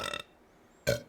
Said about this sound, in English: You're here to listen to people actually burp.